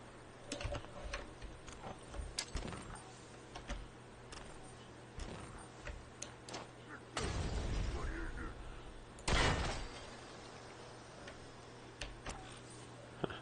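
Sparse clicks and taps of a computer keyboard sound close and quiet, broken by a few louder thuds, with someone talking in between over a faint steady hum.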